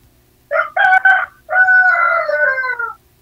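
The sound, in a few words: chickens crowing and clucking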